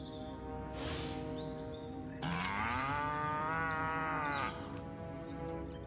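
Cows mooing in the video game Destroy All Humans!, two drawn-out bellowing calls, the second louder and longer with a rising then falling pitch, over a faint steady game background with small chirps.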